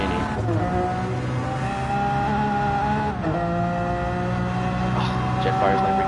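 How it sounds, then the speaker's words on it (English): A Lamborghini race car engine in Gran Turismo 7 sings loud and close, with high revving tones that rise and dip through gear changes, mixed with other cars racing nearby. "Oh, Jetfire's Lamborghini sounds gorgeous"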